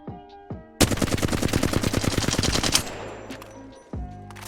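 A Flatline rifle in Apex Legends fires one sustained full-auto burst of about two seconds, rapid evenly spaced cracks up close, with quieter game sounds before and after.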